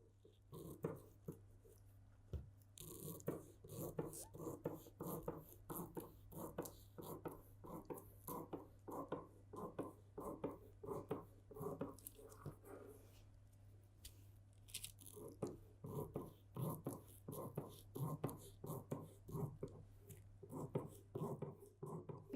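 Scissors cut through coat fabric with an embossed flower pattern: soft, repeated snipping and crunching at close range, steady and quiet, with faint speech now and then.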